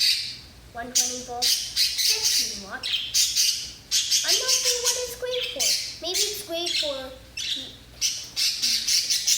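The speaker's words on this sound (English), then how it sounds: "you know that sound is our birds" Pet birds squawk and chirp loudly and repeatedly in bursts all the way through, with someone talking over them indoors.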